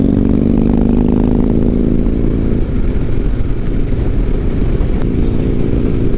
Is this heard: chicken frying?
no